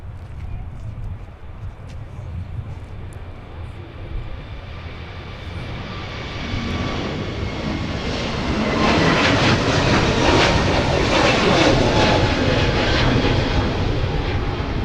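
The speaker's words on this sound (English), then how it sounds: "looks like we're going to get our next takeoff here. And that would be Frontier." Frontier airliner taking off at Minneapolis–Saint Paul airport, a broad jet engine roar that builds steadily from a distant rumble to a loud, sustained blast. A voice speaks faintly at the start.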